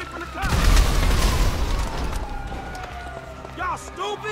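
An RPG rocket blast in GTA 5 during a heist shootout: a heavy, close boom that rumbles and fades, with running and shouting voices mixed in and more pops afterward.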